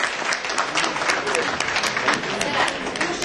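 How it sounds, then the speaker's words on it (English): An audience at a panel discussion on running and managing schools, at an education leaders event, gives a dense, sustained round of applause, loud and steady throughout with no break. "Can we please give sir a huge round of applause?"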